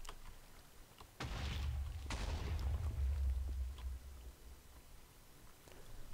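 An artillery shot fired in a Minecraft match lands as a loud deep boom about a second in, with a second blast close behind and a low rumble rolling on for a couple of seconds before fading to quiet.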